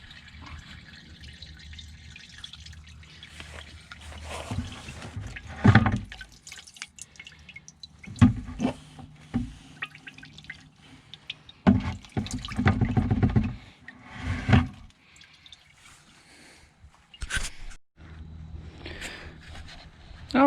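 Old liquid being poured out of a 1985 Pontiac Fiero tank, heard as irregular splashing and gurgling bursts with dripping between them, fairly close and moderately loud, with no talking.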